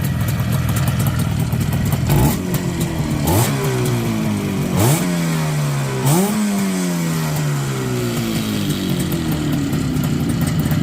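An IZh Jupiter 5 motorcycle engine, freshly rebuilt with a repaired gearbox, revs in several sharp bursts that fall back and settle into a steady, close idle with no speech over it.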